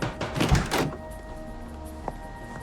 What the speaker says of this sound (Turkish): niye kapatıyorsun suratıma kapıyı?